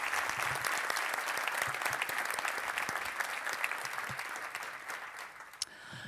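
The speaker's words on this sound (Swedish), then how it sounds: "jag hoppas att du hör den värme och de applåder som vi skickar härifrån till dig" A conference audience in a large hall applauds warmly and continuously, a soft, even wash of many hands heard from some distance.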